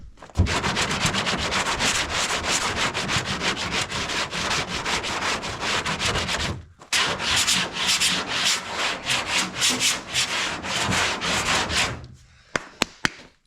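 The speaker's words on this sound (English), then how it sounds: "You get it to where it starts clogging up your sandpaper a little bit." Car bodywork sanded by hand with sandpaper: rapid, rhythmic back-and-forth rubbing strokes, close and loud, pausing once briefly before a second run, then a few light taps at the end.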